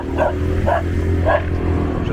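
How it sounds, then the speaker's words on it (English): A dog barking three times in quick, evenly spaced yips at moderate distance over a steady engine-like rumble on a quiet road near a tropical island beach. "Just got attacked by a dog."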